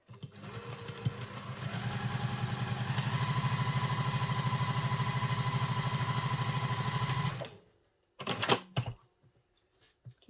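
Sewing machine stitching a travel satchel, running in a fast, steady mechanical chatter for several seconds before stopping, followed by a couple of brief clicks and handling noises.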